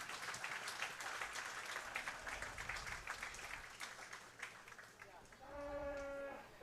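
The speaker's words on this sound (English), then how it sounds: "Give them a nice round of applause." Applause from an audience at a county fair beef cattle showmanship show, scattered claps rippling on for several seconds before fading, with voices and a brief harmonic animal-like call near the end.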